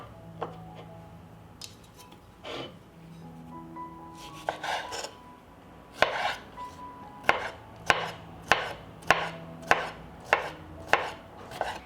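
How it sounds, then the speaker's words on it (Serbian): Knife finely chopping three pickled cucumbers on a board, starting as scattered cuts and settling into a steady series of sharp, close, evenly spaced chops, with no talk. "I iseckat ću 3 kisela krastavca sitno."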